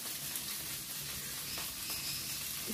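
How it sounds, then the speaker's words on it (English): Steady, quiet sizzling and crackling of meatballs frying in a pan, a continuous hiss with small pops and no talking. "These guys are starting to sizzle here."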